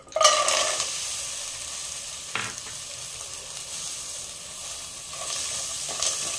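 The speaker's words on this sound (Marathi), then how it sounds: "वाटाणा तेलावर छान परतून घ्यायचा।" Green peas frying in a spoonful of ghee, a steady crackling sizzle with occasional stirring scrapes, close and continuous without any talking.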